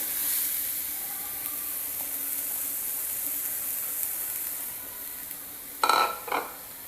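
Chopped vegetables fry in a hot pan while cooking a momo filling, giving a steady, moderately loud sizzling hiss that runs throughout, broken near the end by two brief, louder crackling bursts.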